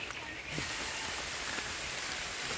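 Steady rain falling outdoors at a house construction site, a constant soft hiss throughout with no clear talking.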